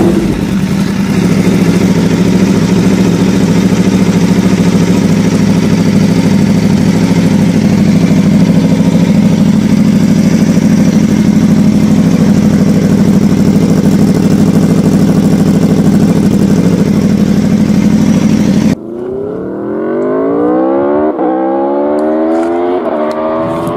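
An Aprilia RSV4 RF sport bike with an Austin Racing GP1R exhaust holds a loud, steady idle for about eighteen seconds, then a sharp throttle blip gives way to a rising rev as the engine pulls away.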